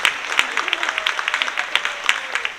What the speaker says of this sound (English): another round of applause